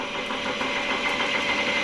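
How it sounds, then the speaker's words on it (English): A steady mechanical whir with a high whine: a Ford Zetec crankshaft spinning continuously at speed on a balancing machine, close and fairly loud with no talking. "So now the crank's building up to speed."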